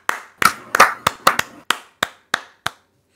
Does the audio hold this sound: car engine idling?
no